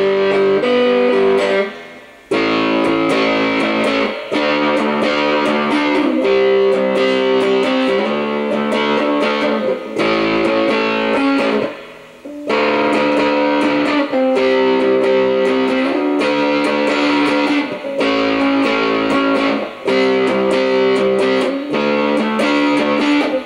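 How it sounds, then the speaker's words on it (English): An electric guitar plays the chords to a song through a Tub Works Tub Driver distortion pedal, giving a dirty, muddy, saturated tone. The strummed chords ring loud and steady, alone, with brief gaps at chord changes. "on distortion it's all dirty and muddy"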